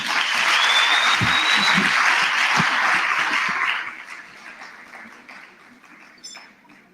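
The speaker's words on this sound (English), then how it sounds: "Let's give them another round of applause." Applause from an audience at a national student representative council induction, loud and sustained for about four seconds before tapering into a quieter room tail.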